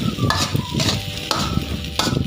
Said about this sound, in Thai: คลุกคลุกผัดผัดไปเรื่อยๆนะครับ ให้ข้าวมันแห้งๆร่วนๆนะครับ